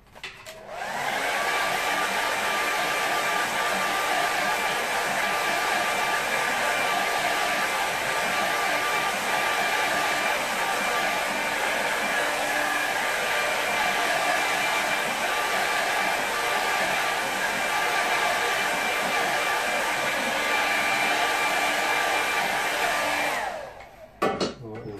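A hair dryer blows steadily over a watercolour painting for over twenty seconds, a close, even, continuous roar with a faint whine, starting and stopping abruptly, with no voices.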